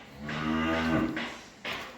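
A first-calf heifer calf moos loudly and close by: one long drawn-out call that sinks in pitch, then two shorter moos follow.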